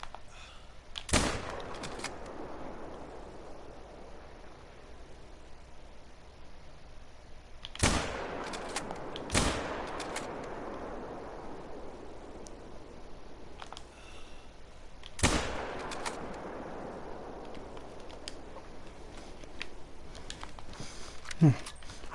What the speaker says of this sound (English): I thought we made the shot